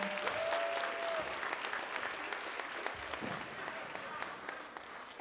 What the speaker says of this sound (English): So give a little hand clap for Mr. Tumani Simons.